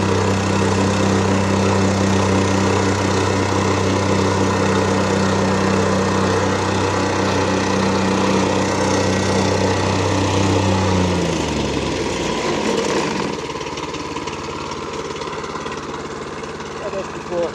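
A sand compactor's engine runs loudly and steadily for about twelve seconds with a deep droning hum, then winds down and fades while the machine keeps rumbling more softly; a voice speaks briefly over the noise.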